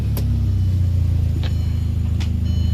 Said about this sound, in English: Can you start the car, bro?